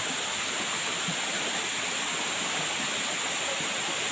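A waterfall pouring down, a loud, continuous broadband roar of falling water with no pauses and no voices over it.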